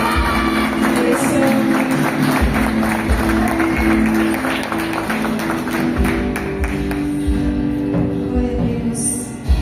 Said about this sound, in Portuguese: Você pode aplaudir ao Senhor, Ele merece, Ele é digno.